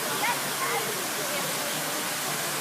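A resort pool waterfall roars in a steady, dense wash of falling water, loud and continuous throughout with no breaks.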